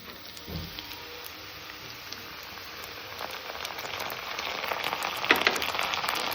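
Softened onions frying with ginger and garlic paste in a pan for Gondhoraj chicken, a soft, crackling sizzle that grows gradually louder, with a light knock near the start.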